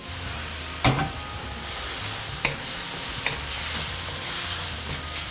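Pasta stir-fried in a wok with gravy, a steady sizzle under light scraping and stirring, with a few sharp clanks of the utensil against the pan scattered through.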